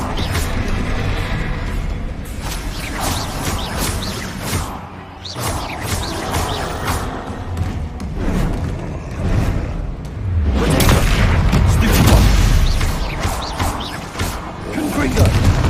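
Repeated Confringo blasting-spell explosions in Hogwarts Legacy, loud crashing booms and whooshes recurring across the stretch, heaviest near the end, mixed with game music and a player's voice talking between casts.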